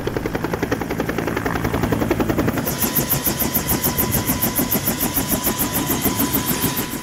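A rescue helicopter engine runs up on a search-and-rescue operation in Mimika, Papua, a loud, steady whine with a rapid, rhythmic rotor chop beginning partway through.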